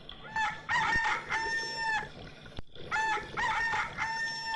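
A cartoon rooster crows twice in a children's story, each call a loud, drawn-out cock-a-doodle-doo with a short gap between, close and clear with no talking over it.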